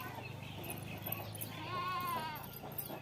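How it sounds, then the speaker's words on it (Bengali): Goats bleat around a farmyard with tethered animals and vegetable plots, one drawn-out wavering bleat rising clearly near the middle over steady outdoor background noise. "ছাগলগুলো।"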